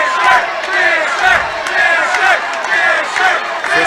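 A loud arena crowd cheering and roaring for fighter Justin Fisher at a 3FC 21 MMA event, with sustained waves of shouting and a commentator's voice mixed into the noise.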